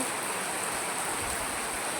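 Heavy rain pours in Uttarakhand, a dense, steady hiss of falling water close by, continuous and unbroken with no voices.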